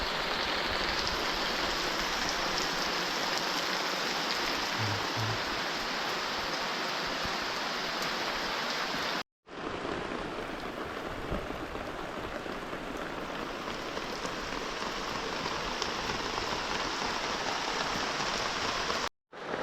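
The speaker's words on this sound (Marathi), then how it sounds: "पाऊस वाढत चालला आहे" Steady, heavy monsoon rain pours down in the Konkan in a continuous dense hiss, close and loud throughout, with no voices.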